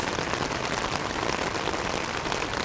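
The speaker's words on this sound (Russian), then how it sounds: "Вообще жесть, пошел дождь." Steady, dense rain pattering on a tent at night during a thunderstorm, a continuous close hiss of drops with no pauses and no voices.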